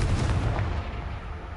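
In the Hogwarts Legacy video game, a Confringo fire spell bursts with a loud, heavy explosive boom whose low rumble fills the moment and fades slowly.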